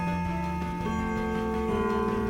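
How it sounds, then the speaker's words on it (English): Clock chimes ring out in sustained, overlapping bell tones, several struck notes sounding one after another, close and resonant with no talking. "It's clock chimes."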